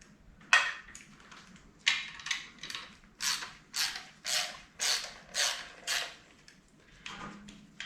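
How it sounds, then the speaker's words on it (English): Front cover of an Exedy triple plate clutch being loosened and removed on a drag race Tommi Makinen Edition build, heard as a series of about a dozen close metallic ratcheting creaks in a steady rhythm, alone without talk. "so first thing we're going to do is loosen off and remove the cover, front cover."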